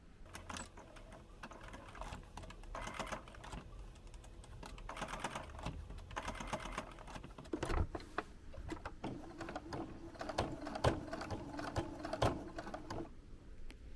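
A sewing machine stitches a quarter-inch seam with white thread on a bandana cosplay hat, a quiet, close, rapid mechanical chatter running in short bursts and longer runs, with small pauses between stretches.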